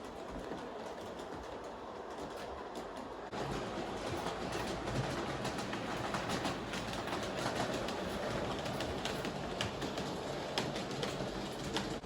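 A G-scale model train powered by live overhead wire runs outdoors with a steady rolling rumble and rhythmic clickety-clack of wheels over track joints, growing a little louder partway through, with faint birds in the background.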